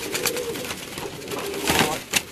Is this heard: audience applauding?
no